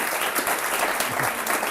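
A class applauds a student, a brief burst of dense, steady clapping from many hands that fills the room without speech.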